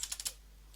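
Computer keyboard typing, four quick crisp key clicks in a short even burst, close and clear, followed by quiet with a steady low hum underneath.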